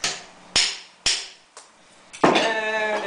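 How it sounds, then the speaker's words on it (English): A hammer strikes vise grips clamped onto a hydraulic cylinder during a rebuild, giving four sharp metallic blows about half a second apart, one lighter, with the last leaving a bright ringing tone. "You're going to beat it with a hammer, and this thing will work its way out."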